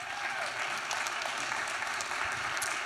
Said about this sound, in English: Round of applause for Joann